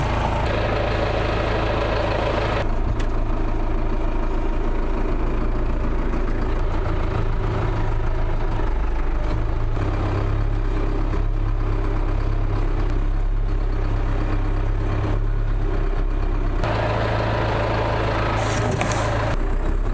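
A tractor engine idles steadily and up close, a loud, low diesel rumble that holds for the whole stretch with small shifts in pitch, before logs are pulled with a skidding cone during off-grid tree clearing for a cabin.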